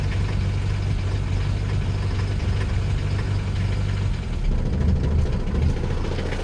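A cold 1967 Mercedes W110 200D diesel idles just after start-up, giving a loud, steady low rumble with a rapid, even knocking clatter that continues close by without any talking.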